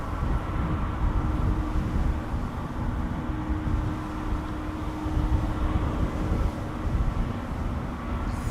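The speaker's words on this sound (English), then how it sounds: "Lufthansa to Frankfurt is coming this way" A Lufthansa Airbus A320neo bound for Frankfurt moves toward the runway at Amsterdam Schiphol on a windy day, giving a continuous heavy jet roar with a steady engine whine, loud and sustained throughout, no speech.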